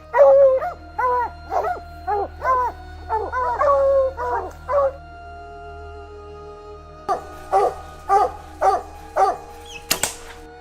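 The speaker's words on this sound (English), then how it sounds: "These hunting dogs are specially trained to recognize bear scent." Bear-hunting hounds bay and bark nearby in rapid rhythmic bursts, a long run of loud yowling barks, then a pause, then another series of regular howling barks, ending with a sharp noise.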